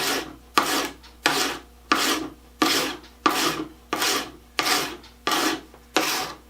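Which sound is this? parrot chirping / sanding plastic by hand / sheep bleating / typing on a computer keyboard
sanding plastic by hand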